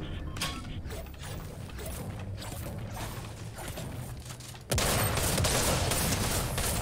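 Gunfire in a video game: a dense rattle of mechanical clatter and repeated shots plays for several seconds, then gives way to a sudden loud, sustained burst of broadband noise.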